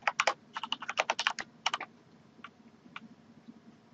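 Quick typing on a computer keyboard while entering items into an Excel 2010 spreadsheet, a fast cluster of crisp key clicks that slows to a few isolated taps over a faint hum.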